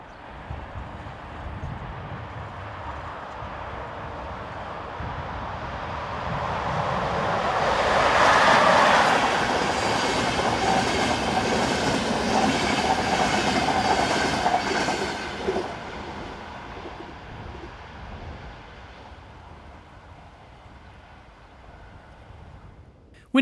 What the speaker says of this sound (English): This is the 1342 from Budapest to Prague, powered at the front by